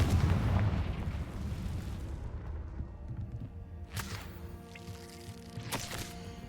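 Confringo blasting spell going off in Hogwarts Legacy: a heavy low boom up front settling into a rumbling tail, then two sharp crackling bursts later on.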